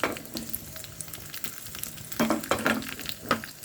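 Mustard seeds, cumin and dried chilies fry in hot oil for a bachelor sambar tempering, a close crackling sizzle with stirring clatter and sharp pops near the end, no talk.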